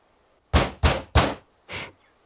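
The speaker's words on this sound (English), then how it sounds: "I bang my fist on the door," A fist bangs on a door: three loud, rapid thuds in a row, then a pause and a fourth, softer blow, close by and with no voices.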